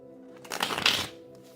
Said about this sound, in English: So let's get some Egyptian tarot here.